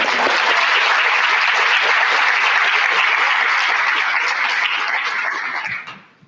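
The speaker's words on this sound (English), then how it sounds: "I want to ask you to give another round of applause to Melissa, Robert" Sustained applause from a conference audience at a PANS medical meeting in Saskatoon, loud and dense for several seconds before tapering off and fading out at the end, with no speech over it.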